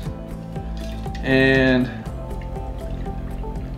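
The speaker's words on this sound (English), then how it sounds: "And now when you pour this in, make sure you leave plenty of room at the top for our garnishments" Bloody Mary mix poured into a glass, heard as a short, rising gurgling fill over a steady background, with a person talking through it.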